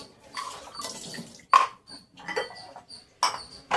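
Water poured in short splashing bursts into a measuring cup, two cups for one cup of semolina, in a home kitchen while carrot halwa is made; brief gurgles with pauses between pours, close and fairly clear.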